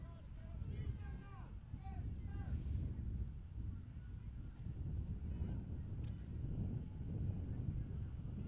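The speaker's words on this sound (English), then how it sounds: "Wind picking up here as we approach the noon hour" Wind gusts across an outdoor field during a 16U girls' soccer match, a steady low rumbling buffet on the microphone running beneath continuous commentator talk.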